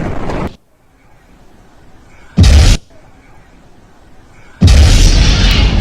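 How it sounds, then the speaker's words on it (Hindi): Russian missile strike explosions in Kyiv, two loud booming blasts a couple of seconds apart, each a sudden broadband burst, with quieter rumbling background between them and noisy sound at the very start. "कैमरे में तेज धमाका रिकॉर्ड हुआ।"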